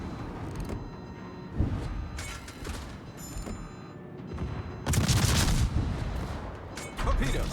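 Warship guns fire in the naval video game World of Warships, several heavy booming salvos with cracking bursts and mechanical clatter, spread irregularly across the stretch amid background game noise.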